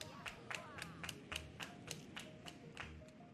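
Hand claps from a gamer who says he still can't really clap properly, a loose run of about ten sharp, fairly quiet claps at an uneven rhythm, with background game music and sounds under them.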